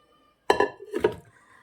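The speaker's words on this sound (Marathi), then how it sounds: "आता आपण एक कुकर घेऊया" A metal pressure cooker is set down in a home kitchen, giving two quick clinking knocks about half a second apart against a quiet background, with no talking.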